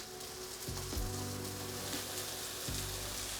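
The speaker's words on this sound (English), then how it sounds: "All right, guys, so I'm gonna fry up the next batch." Chicken pieces for black pepper chicken fry steadily in a pan, a continuous close crackling sizzle with a few brief clatters from stirring, and no talking.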